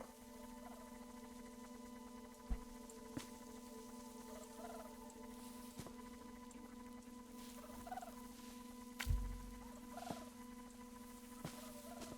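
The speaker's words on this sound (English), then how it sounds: "I hear a bird." Faint, scattered bird chirps from the video game Viewfinder sound over a steady low electronic hum, with a few soft taps in between.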